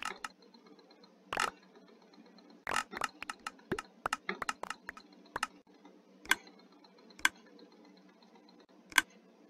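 Computer mouse clicks while playing Minecraft on Windows 10: sharp single and quick clustered clicks in an irregular rhythm, close and fairly faint against a quiet background.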